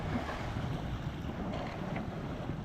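Steady wind rushes over a sailboat at sea, a constant close roar with faint water sounds beneath and no voices.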